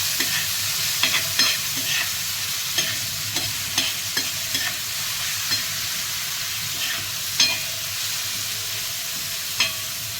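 Tomato and onion sauté in a pan with a constant close sizzle, broken by repeated clicks and scrapes of a spoon stirring against the metal, with no voices.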